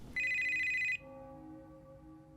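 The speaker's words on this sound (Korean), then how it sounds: "다음날 미유키의 집으로 한 통의 전화가 오고" A telephone rings at a home. One short electronic ring comes through quietly, then fades into a lingering tone, with no one talking.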